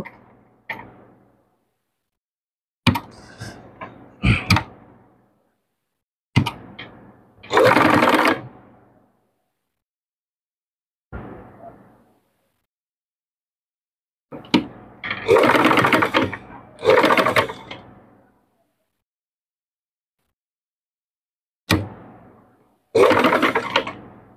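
A sewing machine stitches fabric in short separate bursts, each a brief whirring run of a second or two, followed by quiet pauses, close and fairly loud.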